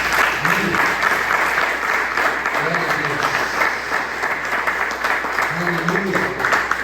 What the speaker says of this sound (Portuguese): dê um forte aplauso ao Senhor Jesus por essa palavra